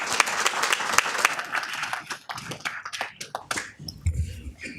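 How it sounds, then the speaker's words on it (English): An audience at a city council meeting in Downey applauds a Girl Scout troop, strong clapping at first that thins into scattered individual claps and fades out. "Let's give them a round of applause."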